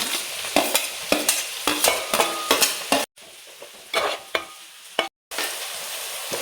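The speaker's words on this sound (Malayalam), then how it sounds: "എല്ലാം കൂടി ഒന്ന് നല്ലോണം വഴറ്റിയെടുക്കുക" Fish masala with ginger, garlic and green chilli is sautéed in a pan. Steady sizzling frying is broken by repeated sharp scrapes of a spoon stirring, close and loud, with two abrupt brief silences and no talking.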